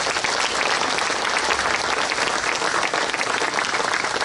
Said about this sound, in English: So can you give them all a big round of applause?